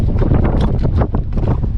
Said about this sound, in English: it's another beautiful windy day here in Ocean City